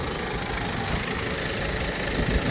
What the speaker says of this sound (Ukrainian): Двигун працює рівно, м'яко, без аномалій, без нарікань.